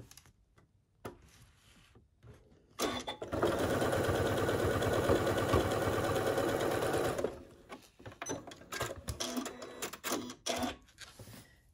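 A sewing machine stitches the seams of a fabric ear warmer in one steady, loud whirring run of about four seconds. Quieter handling and fabric rustles come before and after it.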